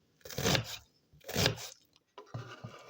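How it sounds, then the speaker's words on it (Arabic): Crunchy knife strokes through onion being chopped finely for a Lebanese shanklish salad, two dense bursts of cutting followed by a quieter run of smaller chops, close and alone without talk. "انا عم نقص البصل"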